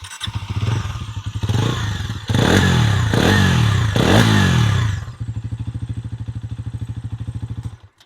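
A 2026 Bajaj Pulsar NS 350z motorcycle starts up close by and settles into a throbbing idle. It is then blipped through several sharp revs before dropping back to a thumping idle.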